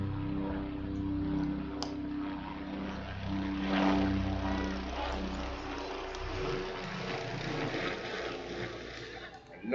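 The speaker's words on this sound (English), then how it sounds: "See the helicopters." Helicopters fly over a cricket ground during an Africa Cup T20 finals match, a steady droning rotor and engine roar that swells and eases across the span, with background murmur underneath.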